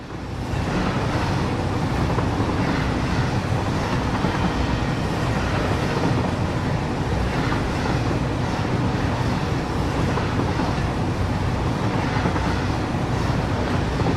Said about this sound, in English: I've forgotten how loud the trains are.